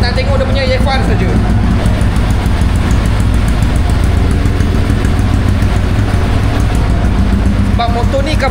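An X-1R carburetted motorcycle with a loud aftermarket exhaust runs on a dyno, a steady, loud, close engine drone with a constant low rumble throughout and brief voices at the start and end.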